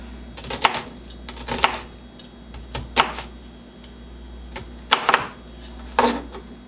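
A knife dices an onion on a chopping board for creamy carrot ginger soup, with irregular knocks against the board at roughly one-second intervals, close and fairly loud.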